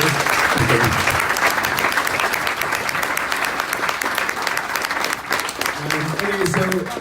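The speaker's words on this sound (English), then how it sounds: "please join me in giving a big round of applause" A conference audience gives Mike Hanrahan, CEO of Walmart's Intelligent Retail Lab, a loud, steady round of applause, continuous clapping throughout with a voice briefly audible underneath.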